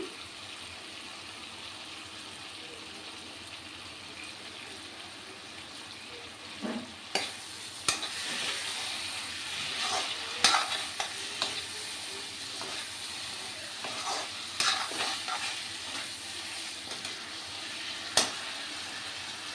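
Potatoes with kasuri methi fry in a pan, a steady close sizzle broken by sharp scraping clicks of stirring that grow busier after the first few seconds; no talk.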